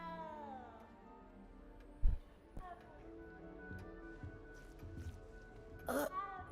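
A cat meows in the video game Hogwarts Legacy, a faint drawn-out call at the start among quiet game sounds, followed by thumps and a brief louder burst near the end.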